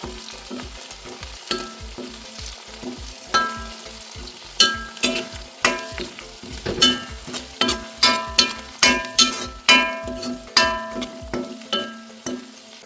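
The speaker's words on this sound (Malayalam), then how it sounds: "ഇനി ഇതിലേക്ക് കുറച്ച് കറിവേപ്പില ഇട്ട് കൊടുക്കാം" Curry leaves fry in hot oil for onion sambar, giving a loud, steady sizzle broken by regular scraping strokes of a spoon stirring the pan, with no voices.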